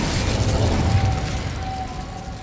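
An Incendio fire spell cast in the Hogwarts Legacy game bursts out as a loud roaring blast that rumbles and slowly fades over a couple of seconds.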